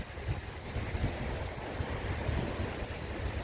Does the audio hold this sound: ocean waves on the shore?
yes